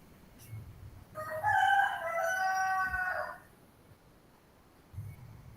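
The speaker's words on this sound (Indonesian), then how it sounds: "Banyak ayam kok kak." A rooster crows loud and clear for about two seconds over a quiet outdoor background, with soft, low chicken clucks before and after.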